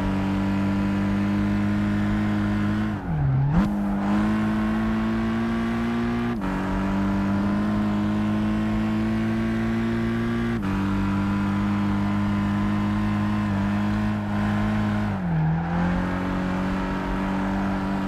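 Race car engine in Gran Turismo 5 holding a loud, steady high-revving drone, with two brief dips as gears shift down before the pitch climbs again, no talk over it.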